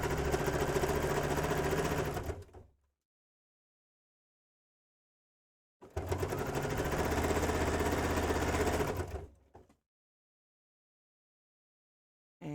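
A sewing machine stitches a French seam on a girl's dress in two long runs of about three seconds each, loud and close, with silent stretches between them and a new run starting at the very end.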